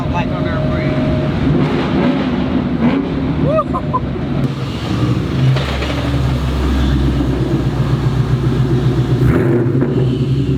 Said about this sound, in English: Let's hear what this MagnaFlow exhaust sounds like under a bridge.